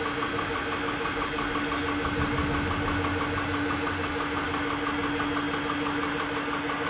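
A Tormach CNC lathe runs its spindle warm-up program at speed, giving a steady mechanical hum with a constant whine over a low rumble that holds evenly for the whole stretch, with no talking.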